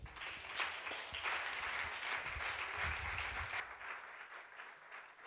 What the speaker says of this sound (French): Merci la chorale, est-ce que nous pouvons les acclamer?